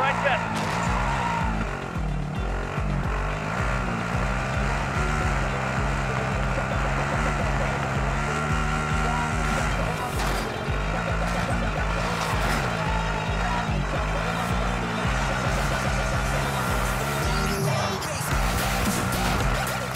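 Car engine droning steadily while driving in Call of Duty: Modern Warfare, a continuous loud hum with shifting pitch, game sounds and voices over it.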